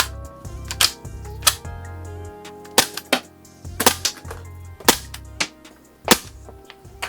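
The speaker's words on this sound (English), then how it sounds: "I just want to make sure that when I pull the trigger, these cartridges eject" A Marushin CZ 75 airsoft gas blowback pistol fires about eight sharp, loud cracks, each with a slide clack as shells eject, in an uneven close rhythm over a low background hum.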